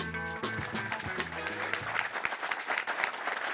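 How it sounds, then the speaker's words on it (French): Applause breaks out after Senegal's opening win at the 2023 Africa Cup of Nations, the clapping rising under a fading musical tone at first and then continuing as a dense, moderately loud patter. "Les applaudissements pour cette belle victoire sénégalaise"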